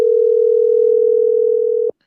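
A telephone dial tone heard while calling in to a radio show, one loud, steady, unbroken tone lasting nearly two seconds before cutting off abruptly into silence.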